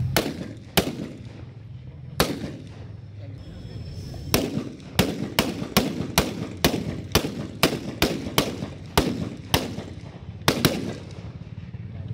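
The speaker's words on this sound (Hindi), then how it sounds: "सिलसिलेवार फायर शुरू कर" Ceremonial rifle volley fire at a 75th Republic Day parade at the Berhampore barracks in Murshidabad: a long series of sharp, loud reports, some spaced and some in quick succession, over a murmur of background crowd.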